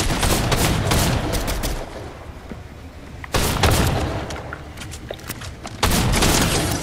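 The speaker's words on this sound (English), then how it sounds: "Drum shotgun." Rapid drum shotgun fire in Fortnite, loud close bursts of repeated blasts in three clusters separated by brief lulls, with booming impacts and echoing reports between them.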